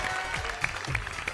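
A studio audience at a Punjabi TV quiz and game show bursts into a short, dense round of applause, steady and fairly loud throughout.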